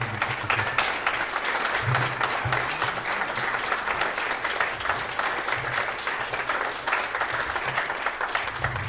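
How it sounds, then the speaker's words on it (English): Steady applause from a concert audience for a vocalist who sang with a southern jazz orchestra, dense unbroken clapping at a moderate level throughout with a low murmur beneath. "Please give her a round of applause."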